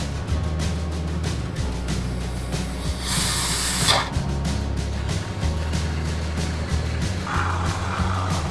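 A steady hiss of spray foam insulation bursts out for about a second amid background clatter inside a trailer being converted into a camper, followed later by a softer, shorter spray.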